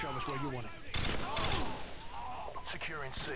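A three-round-burst rifle fires in Modern Warfare 2 during a Domination match on Quarry: two loud, close bursts of gunfire crack out in quick succession in the middle, surrounded by game voices and in-game chatter.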